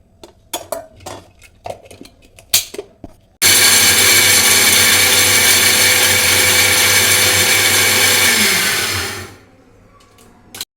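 A mixer grinder roars loudly and steadily for about six seconds, grinding roasted peanuts, garlic, chilies and salt, after a few clinks and knocks, then winds down and stops.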